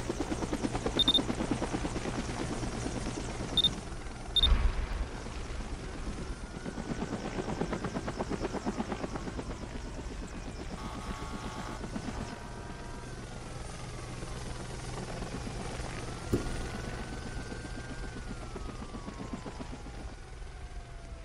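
A helicopter in a Roblox fire department rescue game hums with a steady, loud engine and rotor drone, continuous throughout with a few brief clicks and bumps on top.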